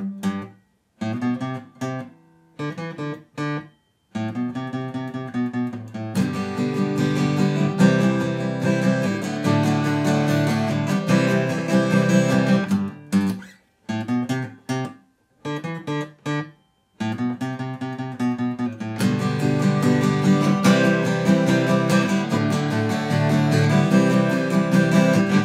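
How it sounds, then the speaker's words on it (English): Guitar playing a bass line on the low strings in choppy, stop-start phrases, then moving into a bright, rhythmic strumming pattern, with riff and strum alternating in a clear, close, unaccompanied sound. "if you were going to go from the bass line into that strumming pattern, it would sound something like this."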